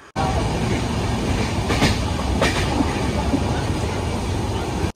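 Jan Shatabdi Express running on the Konkan Railway, a steady loud rumble of wheels and carriage noise heard from on board throughout, with no talk.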